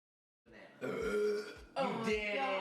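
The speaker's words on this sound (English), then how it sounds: "A massive burp" A person lets out two long, loud, close burps back to back, each deep and rumbling with a voiced, throaty quality, following a short moment of silence.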